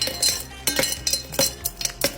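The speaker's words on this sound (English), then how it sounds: "Good old ice cubes." Ice cubes clink and knock into a glass of homemade strawberry lemonade, a series of close, bright, irregular taps and rattles with no talking.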